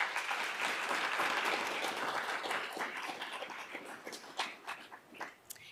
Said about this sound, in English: Please help me in giving them a round of applause as well.